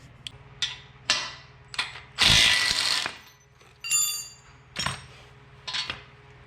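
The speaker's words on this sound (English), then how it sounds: "I've gotta loosen these and take this back apart" Bolts are loosened to take apart a Back-Saver 6100, close metallic clinks, ratcheting and tool knocks in separate bursts with one longer grinding rattle mid-way, no talking.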